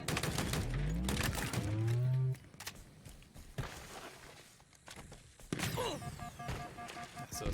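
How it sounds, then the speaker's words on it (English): Gunfire in Halo Infinite multiplayer, a few sharp, loud sniper-like cracks among scattered shots, footsteps and other game effects, fairly close and without talking. "That's a sniper for sure."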